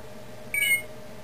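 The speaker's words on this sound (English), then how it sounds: "When you hear the beep, that means that it's connected to the computer" A single short electronic beep, clear and high-pitched, as an iPhone connects to a computer, against a quiet room hum.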